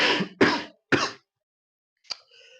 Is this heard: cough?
yes